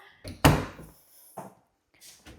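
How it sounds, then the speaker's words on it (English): A soft-close drawer in a renovated home slides shut with a muffled wooden thunk, followed by lighter knocks and a quiet settling sound, close by in a quiet room. "All of the drawers are soft close."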